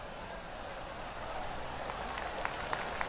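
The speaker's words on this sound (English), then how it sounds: "Oh, golf clap." Polite smattering of gallery applause in a golf video game, a faint soft patter of scattered claps building slightly toward the end, with a few sharper individual claps standing out.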